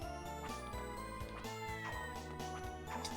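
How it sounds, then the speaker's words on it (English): Cat-like meowing sounds from horses in Castlevania Dominus Collection, a haunted castle video game, repeating over dense game music that plays loudly throughout. "Why are these horses making cat noise?"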